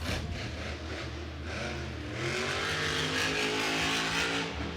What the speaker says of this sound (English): that wide open throttle coming out of that corner